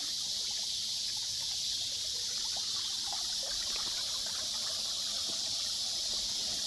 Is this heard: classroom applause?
no